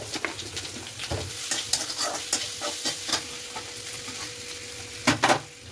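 Ginger and garlic fry in a pan with a continuous crackling sizzle, punctuated by repeated clinks and scrapes of a utensil stirring against the metal, louder near the end.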